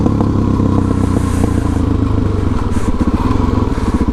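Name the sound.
motorcycle engine and exhaust while riding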